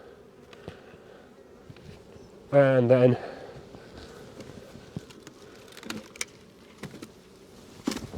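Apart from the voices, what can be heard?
bees buzzing around an opened beehive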